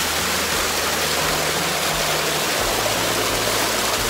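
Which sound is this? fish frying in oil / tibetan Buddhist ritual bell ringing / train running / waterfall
waterfall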